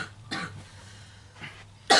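A person coughs three times in short, sharp bursts spaced over a couple of seconds, close and clear against a quiet background, with the last cough the loudest.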